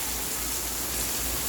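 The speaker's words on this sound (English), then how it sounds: "it's raining, pouring down, cats and dogs" Heavy rain pouring down on a Punta Cana beach in the Dominican Republic, a dense, constant hiss of downpour close by, briefly heard on its own without voices.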